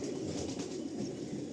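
A pair of pigeons, a Lambadi male and a local female, coo softly and steadily at low volume, with faint wing rustle and no talking.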